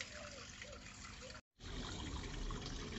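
Cold water running steadily into a soup pot holding veal tail and veal shank for a rustic soup, a continuous trickling pour broken by one brief silent gap.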